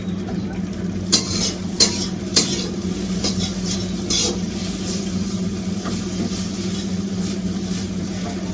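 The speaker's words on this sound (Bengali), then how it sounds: "কিন্তু ঝামেলা হয় ম্যাগি ভাজতে।" Maggi noodles stir-fried in a pan at home give a continuous soft sizzle, with a few sharp utensil clinks against the pan early on and steady stirring after.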